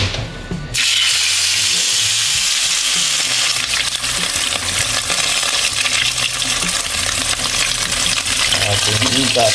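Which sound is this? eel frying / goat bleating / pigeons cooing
eel frying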